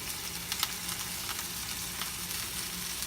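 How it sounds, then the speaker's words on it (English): Seasoned salmon sears in a hot dry pan on a medium-high stovetop, a steady close sizzle with crackling spatters throughout and no one talking. "So once that is seasoned, put it onto the already hot pan."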